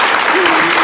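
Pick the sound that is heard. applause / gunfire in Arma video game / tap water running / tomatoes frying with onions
applause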